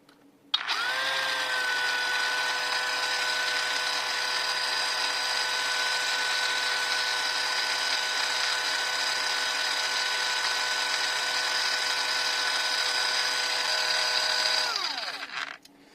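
A DeWalt DCCS670 cordless chainsaw runs at a steady high-pitched whine for about fourteen seconds, starting abruptly and winding down at the end, close and loud with no talk.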